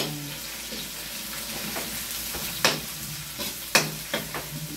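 Garlic and onion fry in a pan with a steady, close sizzle, joined by a few sharp stirring knocks and scrapes toward the end.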